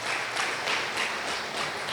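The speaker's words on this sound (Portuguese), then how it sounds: "Vamos aplaudir bem forte e bem alto ao Senhor." Congregation at a church service applauding loudly for the Lord, a steady wash of many hands clapping for two seconds with no voices over it.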